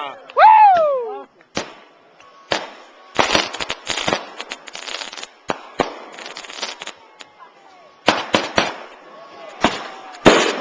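Fireworks burst overhead at a lake at night, a whistling rocket rising first, then loud irregular booms and crackling salvos in quick clusters, with people's voices faintly in between.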